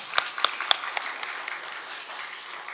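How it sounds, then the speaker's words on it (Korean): A church congregation applauds in praise after a worship song, opening with a few sharp, close claps before settling into a softer, steady patter of many hands that gradually thins out. "우리 하나님께 영광의 박수 다시 한번 올려드리겠습니다"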